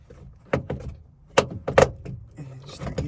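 A prying tool levers up a rear interior trim panel on a 5th-generation Chevrolet Camaro, producing a few sharp plastic clicks and snaps scattered over a few seconds, close up, with no talking.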